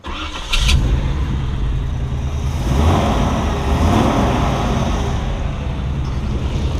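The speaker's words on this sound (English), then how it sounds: "Engine fires right up." A 1961 Chevrolet Biscayne restomod's engine cranks briefly, then catches and roars to life, settling into a loud, steady running rumble close by.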